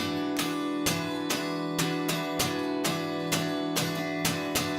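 A strummed guitar chord rings out, struck repeatedly in a steady rhythm, about ten even strums, loud and close with no talking.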